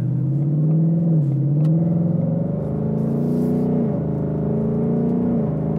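A 2021 Ford Mustang Mach 1 V8 in Sport Plus mode, heard from inside, accelerating with a loud steady rumble whose pitch climbs and then drops at each gear shift, with no talking.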